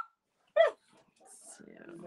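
A dog outside barks once, a short sharp yelp at moderate distance, followed by quieter low-level sounds in a calm indoor space.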